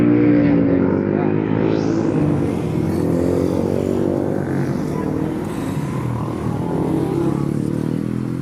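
An AMX1 motorcycle engine runs on a mountain ride in Pangasinan, a loud close rumbling drone holding steady for several seconds with a brief rising rev early on, with some faint talking underneath.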